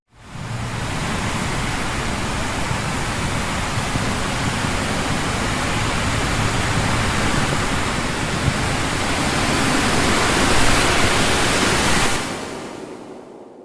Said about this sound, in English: Take a look at this clip of the wind and the trees.